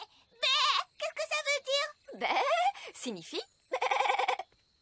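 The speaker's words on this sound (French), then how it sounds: "Que vient de dire le mouton?" Cartoon sheep from the animated series Ben and Holly's Little Kingdom bleat in several loud, wavering calls, one after another, mixed with brief high child-like speech between them.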